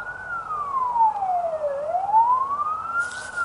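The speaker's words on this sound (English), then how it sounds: "Do I hear another siren?" A fire truck siren wails alone, sweeping down and back up in one long, loud cycle at moderate distance over low street rumble.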